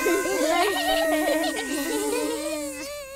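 A cartoon sound effect of buzzing bees in a Peppa Pig episode, a loud wavering nasal drone with sliding pitch that rises and falls for about three seconds, close and with no talk over it.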